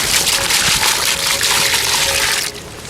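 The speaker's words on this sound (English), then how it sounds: "And then we're just going to add the water to it." Water poured into a Portland-cement mortar mix for repointing stonework makes a steady, loud gushing pour that runs continuously for about two and a half seconds, then eases off at the end.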